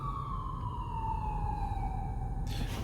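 A police car siren passing outdoors, its wailing tone sliding steadily downward over heavy low road rumble, fairly loud and near, with a burst of noise at the end.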